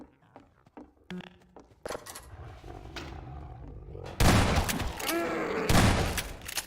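A zombie in Half-Life 2 lets out a loud, rough roar that bursts in over gunfire and other game noise, after a stretch of quieter scattered clatter.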